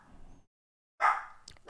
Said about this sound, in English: so the dog's going to start barking.